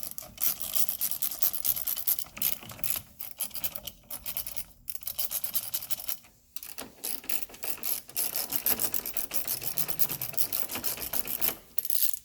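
A hand ratchet clicks in quick, close bursts while loosening bolts on a 2002 Honda CR-V, with short pauses between the runs of clicks.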